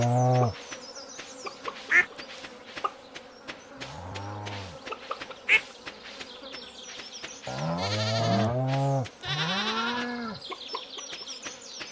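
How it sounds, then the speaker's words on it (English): Farm animals in the Stardew Valley video game, chickens and other livestock, clucking and calling in repeated, overlapping bursts with short buzzy insect-like chirps, steady and fairly close, with no talking. "There's a setting where you can turn off those animal noises so you're not hearing them"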